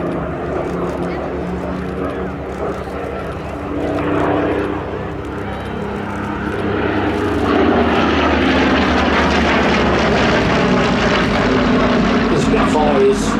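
A Supermarine Spitfire of the Battle of Britain Memorial Flight passes at an air show, its propeller engine droning and swelling louder as it approaches, with a crowd and a commentator talking underneath.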